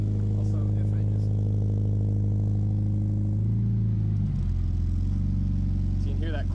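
Scion FR-S fitted with a Supertrapp WaveTech muffler idling on a cold start, a steady low exhaust drone with a high idle that drops and settles partway through, close and continuous with no talking.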